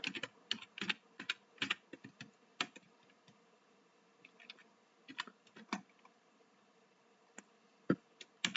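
Fast bursts of clicky keystrokes on a computer keyboard while coding CSS, irregular clusters with short pauses between, close and fairly quiet, with no talking.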